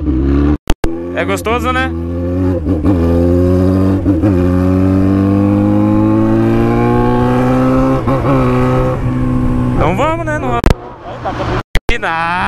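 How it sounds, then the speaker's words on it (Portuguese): A car engine revs and accelerates, climbing in pitch through several surges and hitting the rev limiter, loud and close, with people talking over it. "Você gosta que corta giro? Que acelera?"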